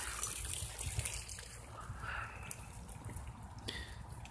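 Water flowing out near a lake bank while crappie fishing, a soft continuous trickle and dribble with occasional drips, fairly close and steady, no talking.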